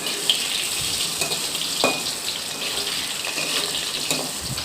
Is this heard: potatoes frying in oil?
yes